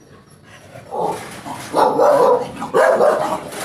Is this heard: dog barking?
yes